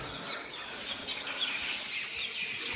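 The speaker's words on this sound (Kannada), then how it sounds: "ಪಕ್ಷಿಗಳ ಸೌಂಡು" Birds chirp around the Ellora temple complex at the Kailasa Shiva shrine, a dense scatter of high, bright calls that carry steadily through the outdoor air with no talking.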